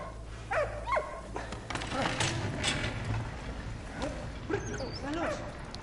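In the video game Valiant Hearts, a dog gives repeated short yips and whimpering barks in bursts across several seconds, close and fairly loud over game background sound.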